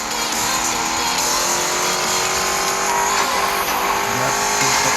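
A car in a video game drives steadily, its engine holding a constant, fairly loud hum with bright high-end noise and no clear revving or pauses throughout.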